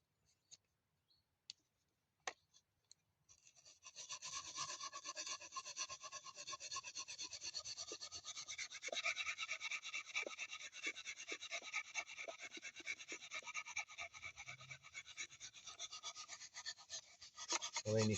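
A knife blade rasps steadily back and forth across a 120 grit sharpening stone held in a sharpening jig, a continuous gritty scraping that starts after a few light clicks and carries on close and unbroken.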